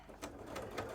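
A sewing machine runs while sewing a cosplay leg, its quick, even stitching clatter filling the short moment at close range, with no voices.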